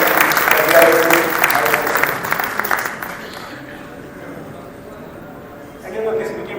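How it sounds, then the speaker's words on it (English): An audience at a Rotary Foundation seminar gives a round of applause, loud and dense clapping for about three seconds, then a quiet stretch before a speaker's voice resumes. "And that is the round of applause."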